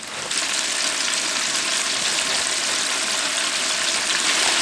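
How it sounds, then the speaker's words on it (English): Mustard-coated ribs deep fry in a deep fryer, giving a loud, steady, close bubbling hiss that barely varies from start to finish. "And my deep fryer is ready."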